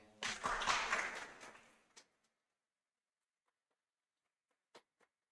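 Brief burst of audience applause for a speaker at a technical talk on DirectX. It rises quickly, fills about two seconds, then cuts to near silence broken only by a couple of faint knocks.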